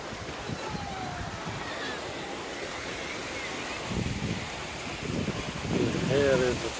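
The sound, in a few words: waves at La Romana Beach, Mallorca, Spain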